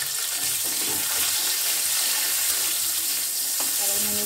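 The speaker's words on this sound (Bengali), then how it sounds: "এরই মধ্যে আমি ডাঁটাগুলো ভেজে নিই" Vegetable stalks fry in a hot pan with a steady bright sizzle and hiss, some faint clinks and stirring scrapes near the end, no voices.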